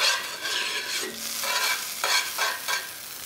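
Smash burger patties sizzling on a hot griddle, a steady hissing fry with brief scraping surges as the patties are moved, close and moderately loud with no talk.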